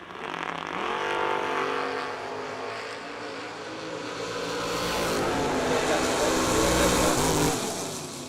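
A Monza and a Camaro drag racing, engines roaring and rising in pitch as they accelerate away, loud and sustained, with an announcer talking over them.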